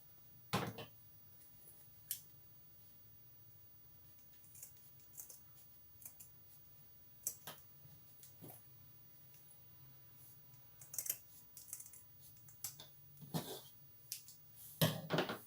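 Scissors snip through excess fabric on a men's lined toiletry bag, a few sharp isolated clicks spread out, then a quicker cluster of cuts near the end, close and fairly quiet.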